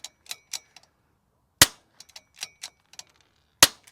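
A rimfire rifle with a 20-inch barrel fires two sharp, loud cracks well apart, separated by light clicks and small metallic taps of handling at close range.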